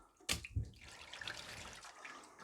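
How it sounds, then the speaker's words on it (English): Water splashing in a kitchen sink while a cloth is rinsed out: a sharp splash and a second slosh, then a softer, continuous trickle and swirl of water, close by with no talking. "So rinse out your cloth, empty the water."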